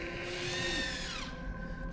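A power drill from a Marvel movie scene runs with a loud, steady high whine that drops in pitch partway through and then keeps going, with no talking.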